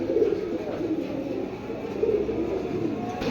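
Silver pigeons coo steadily in a loft, a low throaty burbling repeated through the whole stretch at moderate loudness, with no voices over it.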